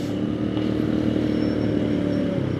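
A motorcycle ridden along a road in Tagaytay City, with a loud, steady engine drone close by and a constant rumble with no clear revving.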